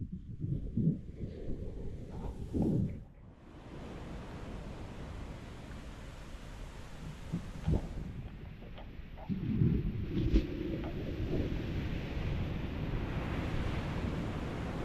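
Sea waves wash steadily onto a clean sandy beach near Manappad temple under a cloudy sky, with a constant surf roar, gusty wind on the microphone and a few louder surges.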